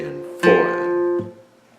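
A slow guitar variation on a Hytale tune: a single plucked note rings out clearly, then a second softer pluck follows shortly after, close and alone.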